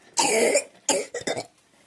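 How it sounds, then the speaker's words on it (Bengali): A boy coughs in a long harsh burst, then a second cough followed by two or three shorter hacking coughs, close and fairly loud. "এত কাশি হয়েছে ছেলেটা"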